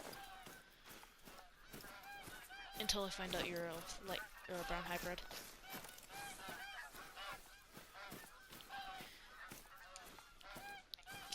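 A flock of geese in the hunting game Call of the Wild honks steadily and overlapping at mid distance, sustained throughout while someone talks over the calls.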